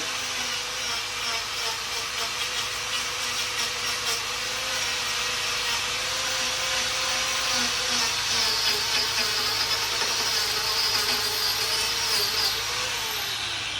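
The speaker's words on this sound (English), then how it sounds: "that thing is just boring right into it" An Arbortech Mini Pro power planer carves into wood, giving a continuous high whine and grinding rasp that holds steady at close range, with the cutting pitch shifting slightly as it bites deeper.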